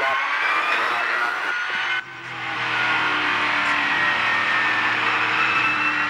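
V8 Supercars at the 2007 Oran Park 400 surge away from a race start on cold tyres, a loud sustained roar of many engines accelerating together, with a brief dip before the pack noise swells and holds steady.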